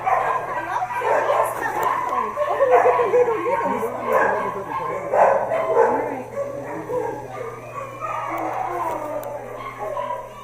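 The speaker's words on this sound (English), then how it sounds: "Entering the Kayenta Animal Rescue Shelter, desperate barks get louder." Many dogs bark, yip and whimper at the Kayenta Animal Rescue Shelter, a dense overlapping chorus of agitated calls, fairly close and continuous throughout.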